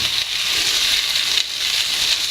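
Crushed potatoes stirred together in a hot pan for samosa filling give a steady, close sizzling hiss that runs unbroken with no voices.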